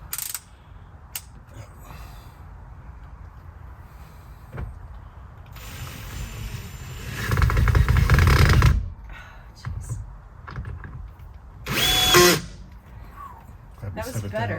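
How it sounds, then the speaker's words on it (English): A power drill drives screws into the ceiling panel of a DIY Ram ProMaster camper van, with short whirring bursts and a louder sustained run near the middle, while people talk quietly between screws. "now we're ready to screw it in"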